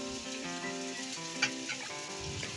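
Home-cooked food fries in a pan with a constant close sizzle and crackle, a few louder pops of spattering oil and faint stirring, with no talking.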